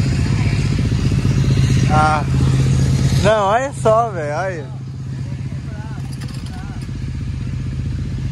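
A motorcycle engine being started and running at a steady, low idle hum, fairly close, heard under loud, excited talk and laughter from several people.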